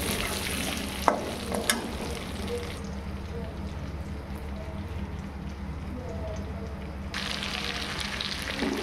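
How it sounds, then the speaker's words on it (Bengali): Potatoes fry in rendered pork fat in a kadai with no added oil, a steady broadband sizzle with a couple of sharp spatula clinks near the start, continuous and close throughout. "এই মাংসের তেলে আলুগুলো ভালো করে ভেজে নেব, লাল লাল করে"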